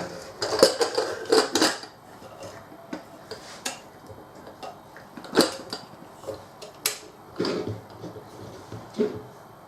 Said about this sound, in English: I'm going to put my lid on it again.